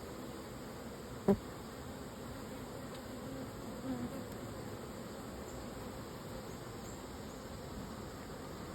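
Honeybees buzz in a steady, close drone throughout a hive inspection, with one sharp knock early on and a few faint bumps of frames being handled.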